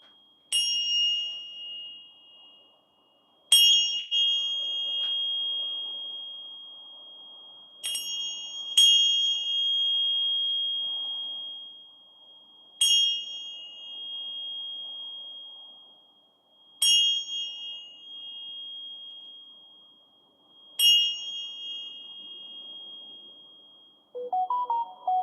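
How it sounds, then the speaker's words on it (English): Seven clear strikes on bells ring out one after another at uneven intervals, each a bright metallic ding that rings on and slowly decays, with a brief voice at the very end. "I feel like Krista when she's banging her bells."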